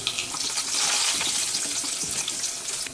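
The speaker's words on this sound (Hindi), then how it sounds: "अब हम इसमें डालेंगे कटे हुए लहसुन और डालेंगे कटे हुए अदरक और डालेंगे करी लीव्स" Chopped garlic, ginger and curry leaves crackling in hot oil in a pan, a dense close sizzle throughout with no talking.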